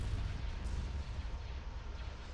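Explosions and blasts from a space battle in Star Wars: Empire at War as a laser cannon is destroyed: a dense, continuous rumble of booming detonations that stays loud throughout, with no voices.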